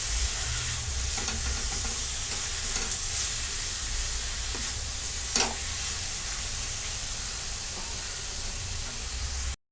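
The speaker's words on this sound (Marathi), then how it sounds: "ह्याच्यामध्ये टोमॅटो देखील व्यवस्थित तेल सुटेपर्यंत आता आपण चांगला परतून घेणार आहोत" Tomatoes fry and sizzle in spiced oil for a brain (bheja) fry, with a steady broadband hiss and occasional scraping stirs of a spoon against the pan, close and continuous until an abrupt stop.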